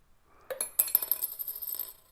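A coin drops into a glass after a card is flicked out from under it, giving a bright clink followed by a quick flurry of light rattling and ringing that settles within about a second and a half, in a quiet room.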